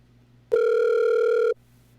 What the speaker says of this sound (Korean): 최 목사님을 전화로 연결해 보도록 하겠습니다.